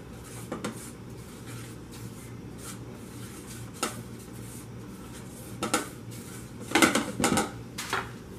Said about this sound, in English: we're just going to stir it all up so everything is evenly distributed